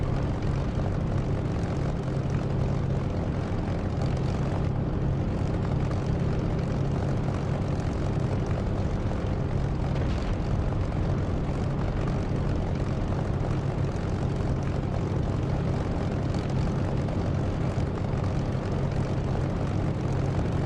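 Aircraft engine running on a taxiway in the DCS flight simulator: a steady, loud propeller and engine drone with a constant low hum, unbroken throughout and without any voices.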